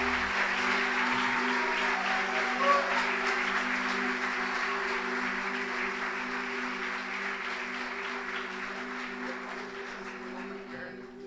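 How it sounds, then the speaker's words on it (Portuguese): A church congregation applauds during a worship service, a dense, steady wash of clapping that holds throughout and fades slightly toward the end, with a sustained organ or keyboard tone underneath. "Aplaude ao Senhor em nome de Jesus."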